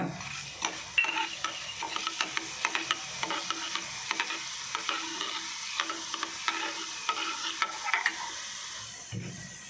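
Masala with coriander seeds frying in a pan while being stirred, a continuous close sizzle broken by repeated scraping strokes of the spoon, no voices.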